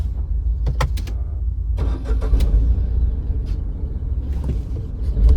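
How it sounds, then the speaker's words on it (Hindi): New Tata Nexon petrol engine heard from inside the cabin, a steady low idle drone with faint ticks and small clicks on top, fairly quiet and with no one speaking. "अब भाई मैंने माइक निकाल दिया और आप अब इंजन नॉइस सुनो।"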